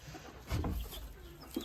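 Old hens clucking in a backyard poultry yard: a few soft, close clucks and short grunts against quiet farmyard background, with a slightly louder burst in the middle.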